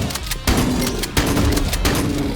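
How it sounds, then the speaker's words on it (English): Pump-action shotgun fired in a first-person shooter, three loud, punchy blasts at a steady pace, each followed by a short mechanical clatter, close and with no voices. "This pump action is a nice looking gun, but it feels quite lightweight when shooting"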